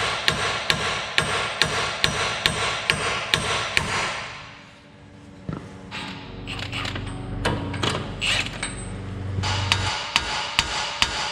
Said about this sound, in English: I'll take hammer and pop it here and press down on your tie rod link.